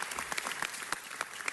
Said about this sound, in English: I just want to give Chief Arbuthnot another big round of applause